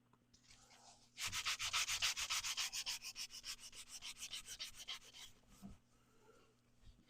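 Hand sanding wood during woodturning, a quiet hiss of rhythmic rubbing strokes, fast and steady at first and then slowing, close by with no talking.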